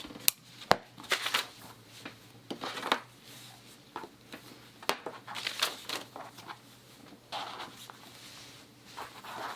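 Scissors cut fabric pieces for a colour-block sewing top, with quiet, irregular snips and rustles of cloth close by.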